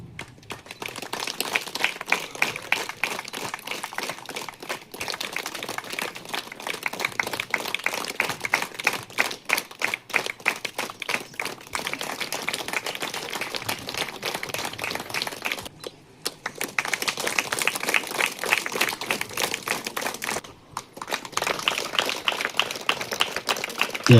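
A crowd claps through a joyful welcome gathering, sustained brisk rhythmic applause close by that runs for many seconds, pausing briefly twice before resuming at full strength.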